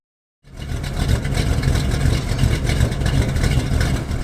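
Worn Oldsmobile 442 V8 starting from cold after a moment of silence, then idling rough and loud nearby with a deep, lumpy throb, no talk.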